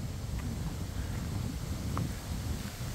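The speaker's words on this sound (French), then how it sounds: "Il y a un peu de vent en plus" Steady low wind rumbles against the microphone, a continuous soft buffeting with faint rustling, no voices.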